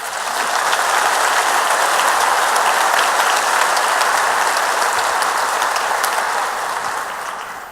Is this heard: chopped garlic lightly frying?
no